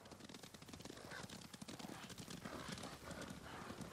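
Horses clip-clop across ground in the Ghost of Tsushima video game, a steady dense patter of hooves with a faint whinny, set against a busy game soundscape.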